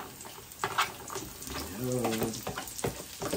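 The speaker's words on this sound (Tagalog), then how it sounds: "At isunod na rin natin yung ating sibuyas." Onions frying in a hot pan with crackling sizzle and scraping stirs, uneven bursts of sound as the pan is worked, with a person speaking briefly over it.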